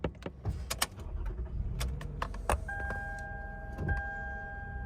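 A company car starting up from inside the cabin, with clicks and clunks before the engine catches, then a steady electronic chime or whine holding over the low running sound.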